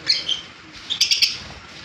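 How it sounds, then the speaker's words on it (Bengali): Violet Fischer's lovebirds give scattered, high, thin chirps close by, a few single calls followed by a quick cluster of three. "ভাইলেট ফিসার বন্ধুদের জন্য দাম রাখা হয়েছে মাত্র বারোশো টাকা জোড়া খুব সুন্দর কোয়ালিটি পাখি"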